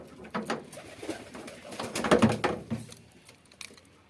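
Pigeons coo repeatedly in a pigeon house in the morning, soft throaty calls rising and falling in irregular bursts alongside faint wing and feet patter, with no voices present.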